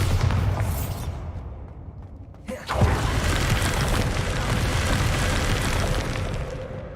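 A Bombarda blasting spell explodes in Hogwarts Legacy with a loud booming burst, then a sustained roaring rumble of debris and blast noise that fills the rest of the moment.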